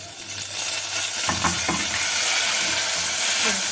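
Tomato sauce sizzles in a hot pan as a drop of vinegar is added for moussaka with minced meat, giving a loud, continuous frying hiss with a few stirring clicks partway through.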